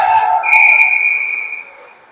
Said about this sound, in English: We have a whistle calling an offside, I guess.